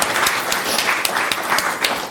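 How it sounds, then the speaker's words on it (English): Audience applause at a CSR and sustainability conference, dense continuous clapping heard close and loud throughout. "I think he needs a huge round of applause."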